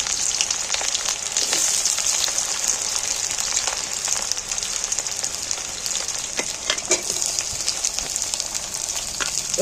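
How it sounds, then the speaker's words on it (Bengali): Onions sizzle and crackle steadily in hot oil in a pan, a dense continuous frying hiss with small pops and stirring scrapes, close and fairly loud with no talking. "পেঁয়াজগুলো তেলের মধ্যে তুলে দিই।"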